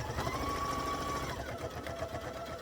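A sewing machine runs steadily while stitching quilt binding at a short stitch length, a continuous close mechanical whir with a rapid needle rhythm and a faint thin tonal whine, with no talking.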